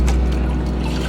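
Water splashes and gurgles into a bait bucket fitted with a bubbler, a close, continuous rushing trickle with a low rumbling undertone and no talking.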